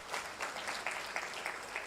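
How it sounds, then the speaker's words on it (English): A health promotion conference audience claps for a panelist, a short, moderately dense burst of hand claps with distinct individual slaps, heard from within the room. "Ladies and gentlemen, let's clap for that panelist again."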